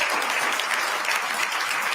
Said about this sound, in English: They clapping for this.